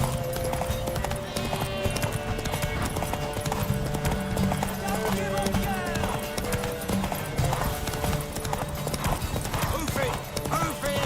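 Horse hooves gallop continuously in The Witcher 3, a dense, steady drumming that stays loud throughout, with voices calling out over it and a brief whinny.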